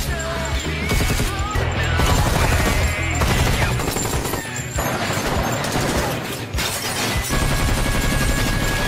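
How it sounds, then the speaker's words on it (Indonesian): Dense, loud gunfire rattles through a dockside shootout in the 2016 action film Special Female Force: rapid bursts and heavy crashing impacts pile up continuously across the scene, with no one speaking. "Sehingga aksi baku tembak di dermaga itu pun tak terhindarkan."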